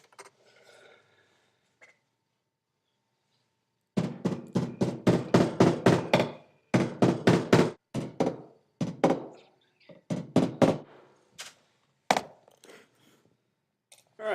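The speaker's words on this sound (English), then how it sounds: "I'm going to use these little tacks like this. I'm just going to put one here and one here like I would with a staple gun." Small tacks hammered through fabric into a torch handle: bursts of rapid, close, sharp taps in quick series, separated by short pauses, with faint handling noise at the start.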